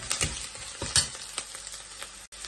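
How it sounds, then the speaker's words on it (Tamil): Crushed ginger sautéing in a pan for a stingray fish curry, a close crackling sizzle broken by several sharp stirring clatters, with a brief dropout near the end. "நல்லா வதங்கட்டும்"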